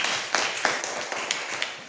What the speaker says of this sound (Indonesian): Kelompok 5 tepuk tangan.